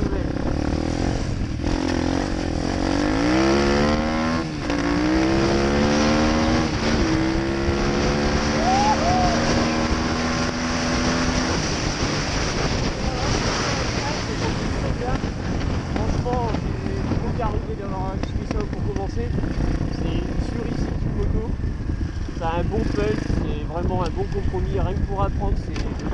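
An Apollo motorbike engine runs steadily while being ridden, a loud continuous drone with rising and falling pitch as it shifts, heavy wind buffeting over it throughout.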